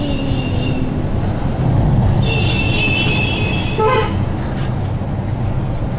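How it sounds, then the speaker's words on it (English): An electric train passing on a trip around Pondicherry, a steady rumble of wheels with a couple of high horn toots, close by and loud, with a brief high squeal. "Aparang electric train."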